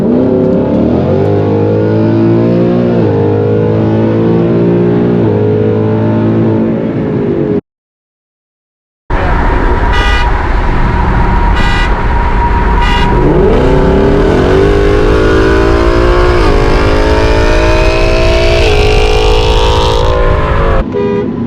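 Ford Mustang S550 cars in a 60-130 roll race in Mexico rev and accelerate hard, with loud engines rising through the gears. A brief gap of silence is followed by another run with sharp shifts.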